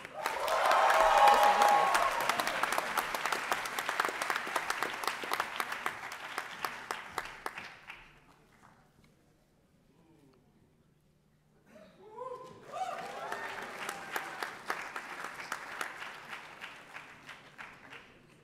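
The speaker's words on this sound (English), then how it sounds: "Please clap loudly for each one of our students." A large audience applauds loudly at an engineering diploma ceremony as graduates' names are read; the clapping fades to near silence with a brief voice, then another round of sustained applause rises.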